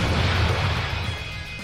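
A car crash in the video game Trails to Azure during a runaway vehicle chase: a loud, low booming impact with crunching debris that rumbles and then slowly fades.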